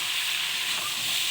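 Pumpkin, potato and vegetable stalks sauté in a pan with salt, turmeric and Kashmiri chilli powder, giving a steady, close, hissing sizzle that runs unbroken through a short moment.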